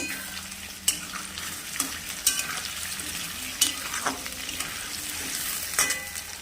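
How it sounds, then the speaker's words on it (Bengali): Potatoes frying in a pan for a jackfruit and shrimp curry, a steady close sizzle with occasional sharp clicks of a spatula stirring, no talking. "আলুটা ভাজা হচ্ছে"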